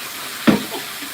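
Shower water runs in a steady, even hiss, with one brief louder splash partway through.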